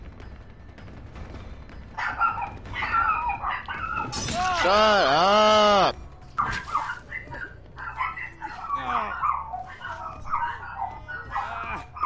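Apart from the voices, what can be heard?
dog barking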